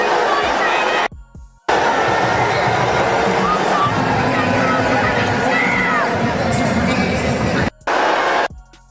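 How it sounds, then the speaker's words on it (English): A basketball crowd in Toronto boos Sophie Cunningham, a loud sustained roar of jeering voices broken by short cuts to silence, with talk over it. "So she got booed right there."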